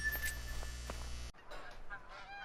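Snow geese honking in a short burst of loud, clamorous calls from a flock, which cut off abruptly partway through, leaving quieter scattered calls and faint background noise.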